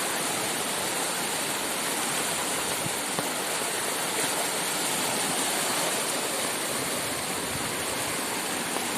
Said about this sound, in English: come, I think, to see the creek flood